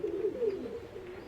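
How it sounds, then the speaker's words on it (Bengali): Pigeons in a loft of fancy breeds coo in a soft, steady, low rolling murmur, close by and continuous, with no talking. "এই যে দেখতেই পাচ্ছেন মাশাআল্লাহ অনেক সুন্দর সুন্দর কবুতর"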